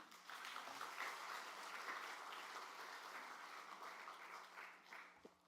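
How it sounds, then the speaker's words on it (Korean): A church congregation claps at a Sunday evening service, steady dense applause filling the hall for several seconds and then tapering off, fairly distant and soft in level. "박수 주시겠어요?"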